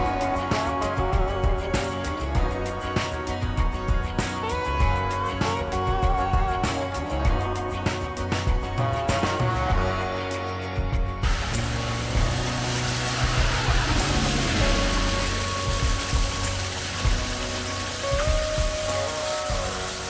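Steady rain falling while walking outdoors in Armenia, a dense continuous hiss of drops on surfaces that carries on throughout at fairly high level, with no voices.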